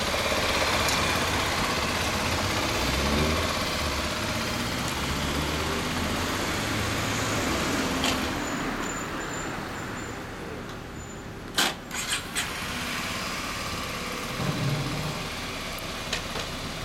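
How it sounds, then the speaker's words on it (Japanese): A 2016 Kawasaki Z250SL motorcycle idles at close range with a steady low engine drone, a few sharp clicks and knocks breaking in near the end, no talking. "ごめん、エンジンを聞かせてもらえるかな。"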